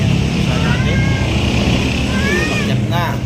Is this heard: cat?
yes